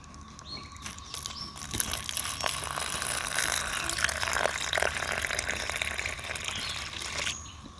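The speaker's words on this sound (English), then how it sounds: "Now I'm going to be adding some water." Water poured into a garden compost cup makes a steady soft splashing, faint birds chirping in the background throughout.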